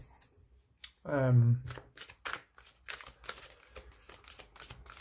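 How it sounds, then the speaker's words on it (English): Tarot card deck being shuffled by hand, a soft papery riffling and sliding of cards that keeps repeating, with a person talking over part of it. "I'll give these a good shuffle"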